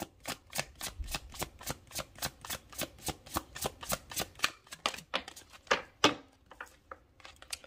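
Tarot cards being shuffled close up in a fast regular run of crisp riffling flutters, slowing into a few scattered slaps and shuffles toward the end, no talking.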